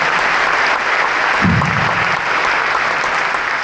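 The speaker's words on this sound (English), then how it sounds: "Give me a round of applause for Carol" A crowd at a rally for New Zealand healthcare outside Dunedin Hospital applauds loudly and steadily, a dense continuous clapping that fills the whole stretch, with a brief low murmur of voices partway through.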